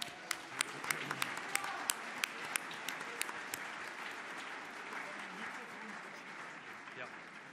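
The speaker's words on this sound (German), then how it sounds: "Ich denke, das ist ein Applaus wert." Audience applause at the Rosa Luxemburg international conference, a steady wash of many hands clapping in a hall, with a few sharper individual claps standing out at first before the sound settles into an even, sustained ovation.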